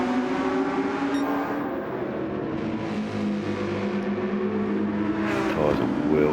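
A race car engine drives hard in a sim racing game on a wet Nürburgring GP circuit. The engine drone holds steady and close, then climbs in pitch as the car accelerates, with a faint voice underneath.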